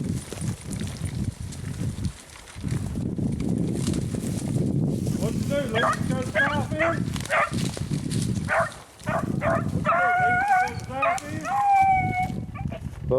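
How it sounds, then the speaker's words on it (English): A pack of hunting dogs bays and howls in a rising chorus of overlapping, drawn-out cries over steady outdoor rumble, with people talking underneath. "That's a covey of dogs."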